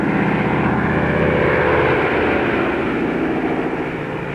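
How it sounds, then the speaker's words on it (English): A World War II Skytrain transport plane tows a glider into takeoff position, its propeller engines droning loudly and steadily throughout, a heavy continuous roar with no other sounds. "the transport towed the glider into position for the takeoff run."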